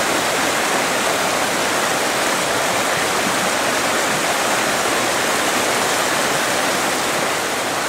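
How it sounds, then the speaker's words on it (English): Creek water rushes steadily at a crossing on a remote wilderness coastal walking track, a dense, continuous broadband wash that stays close and loud throughout with no voices over it. "Another creek crossing."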